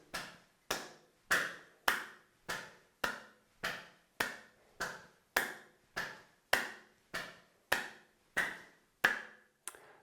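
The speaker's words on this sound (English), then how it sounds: "if we clap the hands, once in front, once behind, repeat that around 10 times." Sharp hand claps in a steady series of about sixteen, alternating in front of and behind the body as a Qi ball exercise, each crisp and close with a short decay, evenly spaced and alone without talk.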